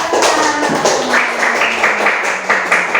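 A group applauding in an indoor training session, dense overlapping clapping that stays steady and fairly loud throughout, with a few faint voices mixed in.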